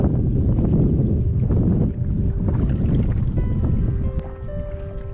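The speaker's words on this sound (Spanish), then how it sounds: "el viento empezó a soplar de nuevo cada vez con más fuerza" Strong wind buffets the microphone on a lake in Algonquin Provincial Park, Ontario, during a canoe trip, a loud continuous rumbling roar that swells and eases, with faint tonal whistles near the end.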